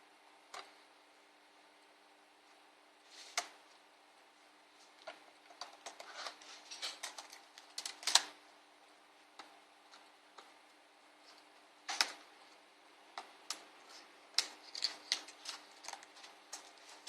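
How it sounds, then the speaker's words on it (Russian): An ASUS N53 laptop keyboard being pried off, giving sparse, quiet plastic clicks and ticks with a few sharper snaps in between, close up, with no talking. "Снимаем клавиатуру."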